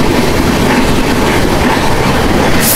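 The CR Rajdhani passenger train runs on rails between Delhi and Mumbai, giving a loud, continuous rumble with rhythmic clickety-clack of wheels, heard from on board with no talk.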